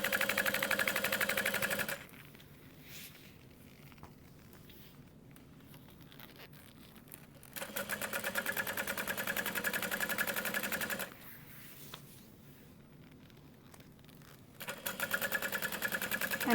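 A sewing machine stitches down the folded edge of a petite Taylor tote with pieced exterior panels, running in three sustained, even bursts separated by quiet pauses.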